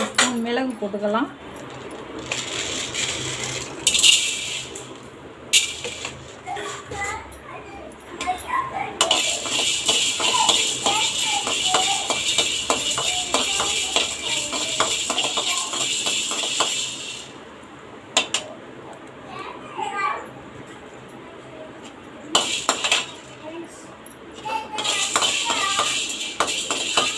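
Black peppercorns roasting in a hot pan after cumin seeds, for a Tamil spiced podi: a steady close sizzle with light clinks and scrapes of a spoon against the pan, no voices.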